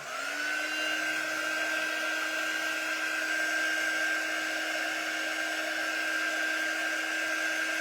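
A hair dryer blows at a surface with a steady, even whine and a constant airy rush, running continuously from start to finish at close range.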